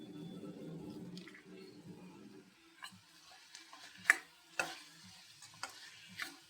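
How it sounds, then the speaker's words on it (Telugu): Salt is stirred into half-cooked food in a pot. Soft, quiet spoon scrapes and taps come at irregular intervals after a brief low hum at the start, and no one speaks. "ఇప్పుడు ఉప్పు వేసి కలుపుదాం"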